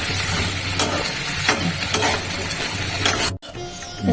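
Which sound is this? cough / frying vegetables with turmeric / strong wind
frying vegetables with turmeric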